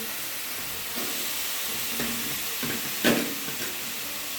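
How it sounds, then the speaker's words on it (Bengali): Chopped tomatoes frying with spice masala in a pan, a quiet, even sizzle with a few scraping stirs, one slightly louder clatter near the middle. "ভালো করে কষে নিই"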